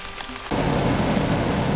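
Rain pours steadily outdoors, starting abruptly after a quiet half second and continuing as a dense, loud, even hiss close by with no talking.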